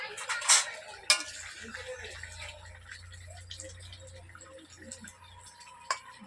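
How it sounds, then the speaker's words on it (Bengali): A metal lid is lifted off a cooking pot of simmering shukto vegetables, giving a couple of sharp clanks near the start. A low bubbling hum and faint kitchen clatter carry on underneath. "এবার ঢাকনা খুলে দেখব সবজি সেদ্ধ হয়েছে"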